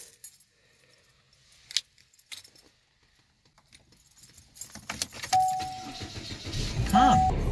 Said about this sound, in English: Let's get the key in the ignition.